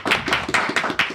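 Studio audience clapping for Helia Molina on a morning TV program, a loud group applause beating in a clear rhythm of about five strong pulses in just over a second.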